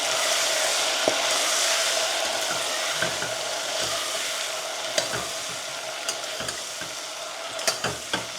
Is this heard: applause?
no